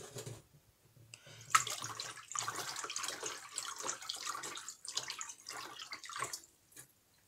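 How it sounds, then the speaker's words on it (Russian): Water poured into a watering basin for petunia seedlings, a soft close splashing and trickling stream that rises and falls in quiet bursts. "Для этого набирается в любую емкость подходящую, чтобы влезла в корзиночку водичка."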